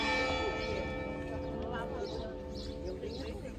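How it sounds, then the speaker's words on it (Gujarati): Church bells at Fatima ring out clearly in steady tones, strongest at the start and gradually fading under the murmur of a gathered crowd. "ટકોરા વાગવા માંડ્યા ફતિમા જીજસના."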